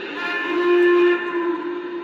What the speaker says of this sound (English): Let's see what some of the other whistles sound like.